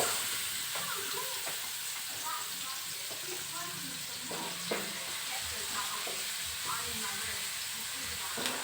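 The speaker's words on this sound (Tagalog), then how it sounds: "Painitin lang natin yung mantika and then maglagay ng bawang, tapos sibuyas" Garlic and onion frying in hot vegetable oil, a steady close sizzle and hiss throughout with occasional scraping stir sounds, while a voice talks faintly underneath.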